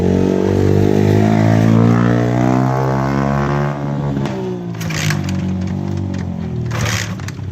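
A rebuilt 150cc bored and stroked engine with turbo and supercharger runs up close, a loud buzzing drone with rising and falling revs and a few sharp higher bursts toward the end.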